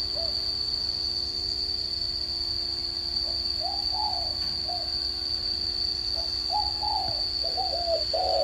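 Soft, repeated cooing of a dove at a moderate distance, several low calls in short phrases over a steady high insect-like hum.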